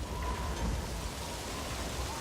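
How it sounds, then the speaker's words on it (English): Rain in the open-world game Metal Gear Solid 5 at Mother Base, a dense, steady hiss of falling drops with a low rumble beneath, even and continuous throughout, no voices. "now you notice it's started to rain"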